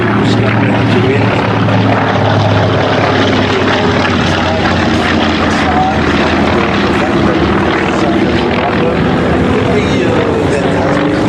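A Grumman Avenger flies at the Duxford airshow, a loud, continuous propeller-engine roar that stays strong throughout, with a commentator talking over it.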